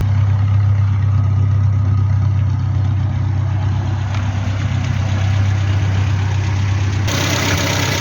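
A Hillman Superminx car engine idles steadily at close range, a loud, even low rumble with a regular rhythm that continues without a break.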